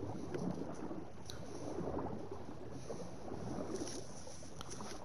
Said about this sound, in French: Vous nagez.